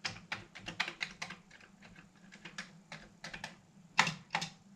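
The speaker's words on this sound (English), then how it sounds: "Keys all seem to work, well," Fingers type on the keyboard of a Commodore VIC-20 home computer during a light restoration, an irregular run of quiet plastic key clicks, close up with no voices.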